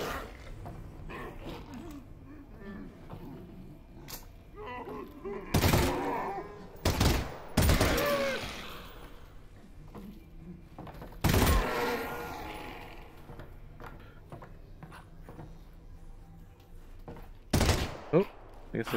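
Gunfire in the Half-Life: Alyx VR game, several sharp, loud shots spaced apart across a quiet stretch of play, with one short burst of two or three rounds and an occasional spoken remark.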